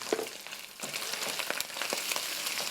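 Garlic and ginger paste frying in a pot for beef qorma, a steady close sizzle with crackling pops and occasional stirring scrapes throughout.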